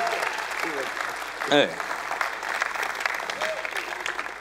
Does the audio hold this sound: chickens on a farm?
no